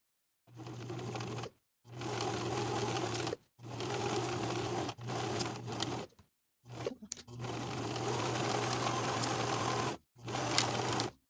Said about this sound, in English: Sew your shoulder seams with a 3/8 inch seam allowance